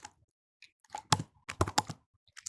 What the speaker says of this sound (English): Just typing Russian.